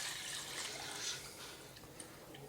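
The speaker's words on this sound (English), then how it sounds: "I will top the rest up with some cold water" Cold tap water runs into a pot holding a pig's head for brawn, a soft steady hiss of pouring water, fairly faint and continuous, with a small drip-like tick near the end.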